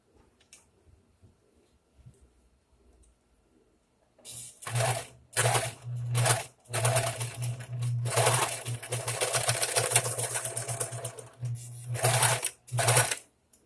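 An overlock serger sewing baby clothes while acting up: near-silence at first, then loud, close bursts of rapid mechanical stitching that stop and restart several times.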